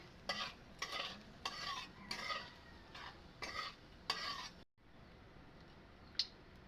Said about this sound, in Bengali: ভাজি নেব লঙ্কাকে